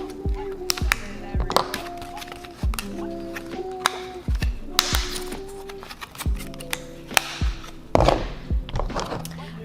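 Sharp taps and plastic clicks of a skincare brightening serum pack being popped open by hand, several crisp, close snaps and knocks in an irregular rhythm, with no talking.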